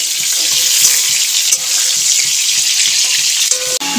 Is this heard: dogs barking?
no